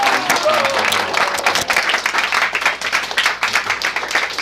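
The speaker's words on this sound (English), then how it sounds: "Let's give another round of applause." Audience applause at a spiritual stress-management seminar, dense steady clapping from a crowd filling the whole stretch with some faint voices mixed in.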